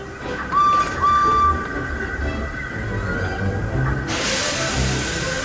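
Steam engine Edward pulling away from a station platform: a drawn-out whistle blows twice, then a steady chuffing rumble builds and a loud burst of hissing steam swells near the end.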